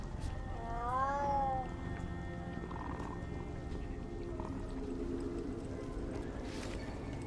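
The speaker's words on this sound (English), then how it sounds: "The cats love me." Cats meow in the video game Dragon Age: The Veilguard, a short wavering meow near the start over a steady game ambience bed, with fainter sounds afterward.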